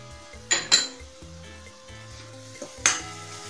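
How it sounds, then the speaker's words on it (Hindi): Tomato paste stirred with pointed gourd and potato in a pan: a few sharp metallic spoon clinks and scrapes over a faint sizzle, with a low tonal hum underneath and no speech. "और लगातार चलाते हुए टमाटर को भी अच्छी तरह से पका लेते हैं"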